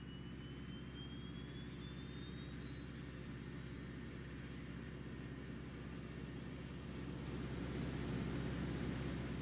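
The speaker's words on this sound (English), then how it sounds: "You can hear that APU, Jonathan?" The auxiliary power unit of a FlyJSim Boeing 727-100 in X-Plane 11 hums steadily with a low drone and a rising whine that swells near the end, heard faint and alone.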